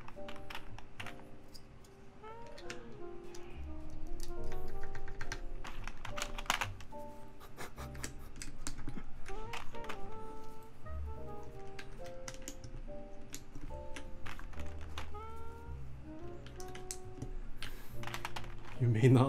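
Keycaps clicking onto a red TGR Alice mechanical keyboard during a build, a steady run of small plastic taps and clicks under soft background music.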